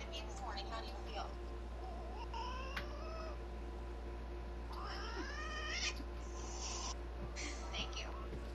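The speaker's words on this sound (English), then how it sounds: "Cats are so fucking annoying." A cat meows and caterwauls in several drawn-out, rising cries over a steady background hum, fairly faint, with other sounds in the room.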